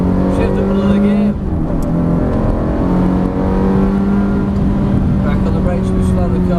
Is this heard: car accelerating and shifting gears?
yes